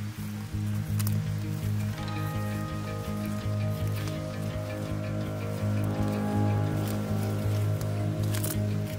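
A small mountain stream in the Veľká Fatra hills near Čierny kameň flows with a steady, close rushing and trickling wash that continues unbroken, with no voices.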